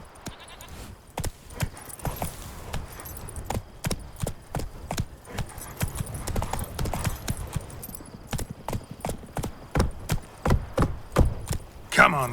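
Horse galloping in the video game Witcher 3, rapid repeated hoofbeats in an irregular clip-clop rhythm, close and prominent, growing more driving toward the end.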